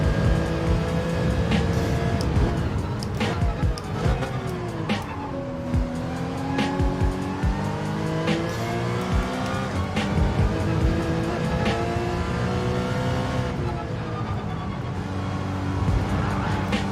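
Race car in Gran Turismo 7 at Laguna Seca on PS4 Pro, its engine revving up and down through gear changes and bouncing off the rev limiter, with repeated tire squeals through corners, loud and continuous.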